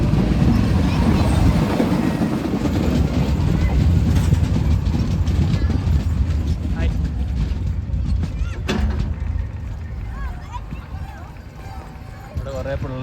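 A train running through villages in Rajasthan, its steady clattering rumble of carriages continuous and close, gradually easing a little toward the end, with a person talking over it.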